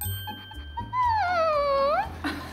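A voice imitates a puppy with a single long, high whining cry that wavers and rises at the end, preceded by faint knocks and background noise.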